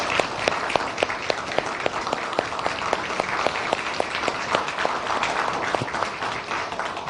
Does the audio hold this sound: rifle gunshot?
no